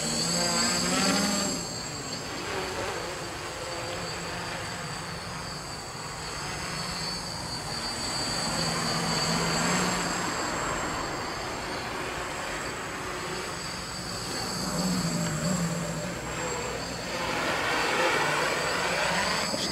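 A KK2.0 quadcopter on cheap half-ply propellers flies continuously, its motors giving a sustained whirring buzz that swells and fades gently as it moves, with no talking.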